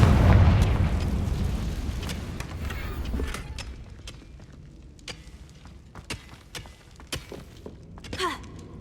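A Confringo fire spell explodes in Hogwarts Legacy with a loud, low boom that decays over a few seconds, followed by scattered sharp pops and crackles and a brief whooshing burst near the end.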